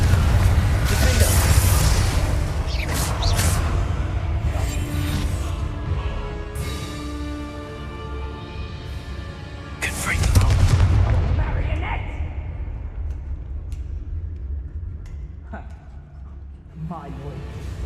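Loud blasting-spell explosions burst in Hogwarts Legacy combat, with two big booming blasts and scattered sharper bangs between them, under a voice calling out spell names.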